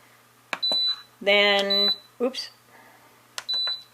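An Instant Pot control panel beeps as buttons are pressed, short, high electronic tones at a steady pitch spaced about a second apart, with a brief spoken word heard between them.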